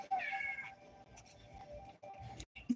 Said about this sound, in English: My biggest cat, and yet he is the most immature one.